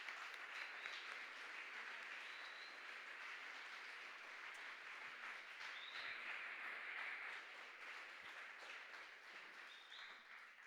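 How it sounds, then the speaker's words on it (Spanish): Church congregation applauding during a Spanish-language service, a steady, fairly faint wash of clapping that continues throughout. "Le damos un aplauso al Señor."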